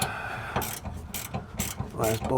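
A swivel-head ratchet clicks in quick bursts while removing a motor mount bolt on a Daihatsu Hijet kei truck, close rapid pawl ratcheting repeated several times with no speech.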